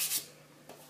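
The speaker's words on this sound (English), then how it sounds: "Just going to start sanding on it" Sandpaper rubs over the wooden cabinet of a 1957 Zenith A510-Y tube radio, a close, loud rasping burst at the start followed by quieter scraping strokes.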